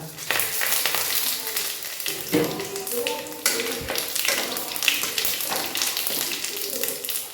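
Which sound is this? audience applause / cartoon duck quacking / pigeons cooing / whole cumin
whole cumin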